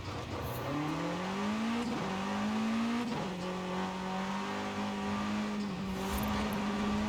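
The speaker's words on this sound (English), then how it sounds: "Again, we are in a race car," Race car engine in Forza Horizon 5, revving steadily as it climbs through gears with brief dips at each shift, a loud continuous drone with faint tire noise and no talking.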